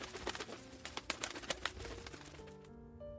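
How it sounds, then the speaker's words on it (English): Birds in a park: pigeons coo softly in repeated low calls, mixed with light fluttering, pecking and clicking sounds nearby, heard alone with no talking. "the man who slept on a bench"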